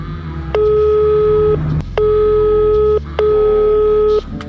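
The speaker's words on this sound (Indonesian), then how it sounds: "Coba saya telepon lah." Three long, even ringback tones of about a second each, separated by short gaps, sound over a phone line while calling a food delivery driver.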